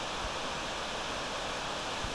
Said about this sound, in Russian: И впервые показался весенний водопад.